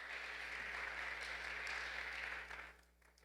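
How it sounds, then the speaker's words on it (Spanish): Congregation applauding during a church service, a sustained even patter of clapping over a low steady hum, fading away near the end. "Dele fuerte el aplauso al Señor."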